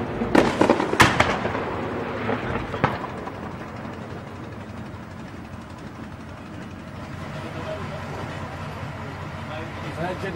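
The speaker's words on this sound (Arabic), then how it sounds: "قصف عصابات الزنكي على المدنيين" Shelling explosions in Idlib, Syria, during 2019 factional fighting: a burst of loud, sharp blasts early on, another crack a couple of seconds later, then a lingering rumble with voices in the background.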